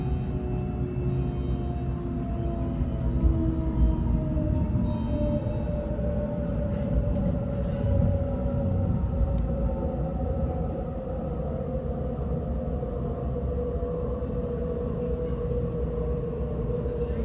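A Sydney suburban train rides towards Liverpool and Casula, filling the cabin with a steady, loud rumble and a rising and falling motor whine that runs throughout, with no talk.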